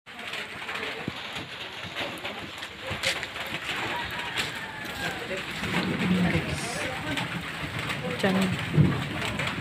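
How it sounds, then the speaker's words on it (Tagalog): Heavy rain pouring down in a constant roar during a storm with strong winds, with gusts and a few knocks nearby while a person talks briefly over it. "Grabe. Ang lakas ng ulan."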